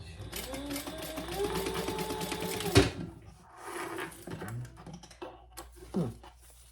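A sewing machine bastes fabric along a straight edge while making a waist pack with a zipper, a close, steady mechanical whir lasting a few seconds before stopping, followed by scattered handling clicks and faint talk.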